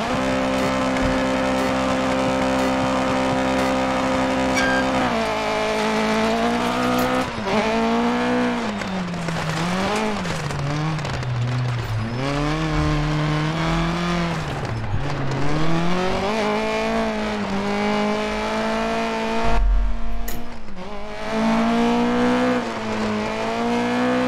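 An Opel Kadett GT/e rally car in Dirt Rally 2.0, its engine loud and close as it revs, climbs and drops through gears, with tyre noise and a brief harsh thump near the end.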